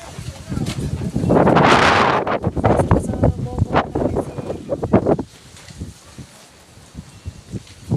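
Gusty wind buffets the microphone in loud rushing bursts, with people talking over it.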